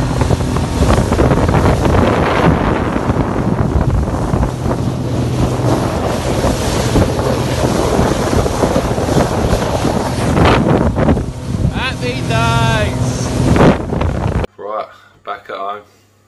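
A fishing boat out at sea after pollock fishing, its motor droning steadily under heavy wind buffeting and wash from the waves, with a voice talking briefly near the end.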